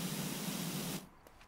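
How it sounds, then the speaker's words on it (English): A pressure washer sprays in the video game PowerWash Simulator, giving a loud, steady hissing rush for about a second before cutting off abruptly, with only faint noise after. "So we'll give it a good spray."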